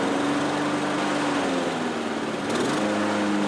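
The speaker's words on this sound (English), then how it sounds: "we'll then just start the engine and then just let a little bit of the fuel burn through" A Toro lawn mower engine runs steadily after fuel treatment, a loud close buzzing drone that dips slightly in pitch partway through, then picks back up.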